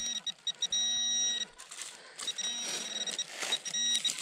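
Nokta Micro Simplex metal detector giving a high-pitched target signal outdoors: repeated clear electronic beeps and tones in short bursts over a noisy, rustling background, moderately faint.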